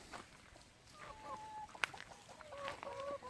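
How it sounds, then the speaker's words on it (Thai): Laying hens cluck softly and intermittently close by, with a few brief squawks over a quiet background. "อันนี้เป็นไก่ไข่นะครับ"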